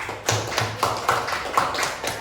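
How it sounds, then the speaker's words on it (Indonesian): Classroom audience clapping for a student group after a presentation, a short burst of rhythmic, close hand claps with a few stronger beats standing out. "kita tepuk tangan untuk kelompok"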